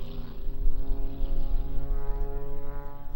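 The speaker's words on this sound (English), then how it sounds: "He's doing a few aerobatic things coming down now." Propeller airplane performing aerobatics over a hydroplane race, its engine drone steady and fairly loud throughout, with a constant low rumble underneath and no voices.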